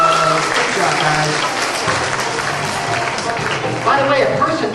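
Audience applause, a full crowd clapping continuously and fairly loudly, with voices mixed in underneath.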